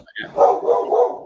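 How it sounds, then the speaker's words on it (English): A dog barks indoors, close and loud: a short yip, then a drawn-out, throaty bark lasting about a second. "All right, and my dog. Sorry, guys. Barking at the right."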